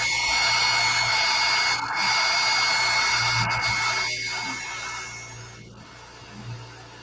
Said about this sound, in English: And then I'm going to take my heat gun